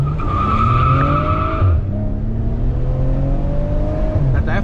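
A stock Maserati Ghibli S drifts hard, its tires letting out a loud sustained squeal over the roaring, revving engine, heard up close from inside the car as the pitch slides and the screech carries on.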